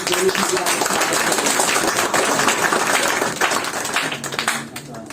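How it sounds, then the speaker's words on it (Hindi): An audience claps loudly for guests at a success talk, a dense steady wash of applause that holds for several seconds before thinning out toward the end. "विकास भैया प्रोबेशन ऑफिसर और संजीत भैया, एक बार जोरदार तालियों से"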